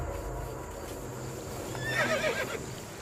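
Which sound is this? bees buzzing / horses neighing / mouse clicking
horses neighing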